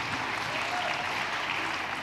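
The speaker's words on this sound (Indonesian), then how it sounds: "Tepuk tangan untuk Pak Yopi ya." Audience applause for Pak Yopi after his song at a national scientific meeting, a steady even patter of many hands clapping at moderate volume throughout.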